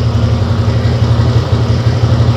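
A Skywave 125 motorcycle engine idles steadily at close range, a low continuous thrumming hum with an even, unbroken rhythm and no talk over it.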